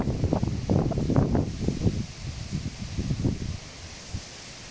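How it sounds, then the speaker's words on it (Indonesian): Strong wind gusts buffet the microphone beside a big river during net fishing, a rough rustling roar that swells in bursts for several seconds and then drops to a lower steady rush. "Kencang sekali ya, bosku, anginnya di sini"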